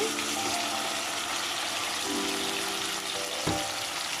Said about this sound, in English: I'm just going to add the diced tomato